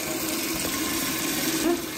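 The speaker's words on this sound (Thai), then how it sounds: "ทำไมน้ำมันไหลเองเนี่ย" Water runs steadily from a tap in a quiet home at night, a continuous close hiss and splash with no voices over it.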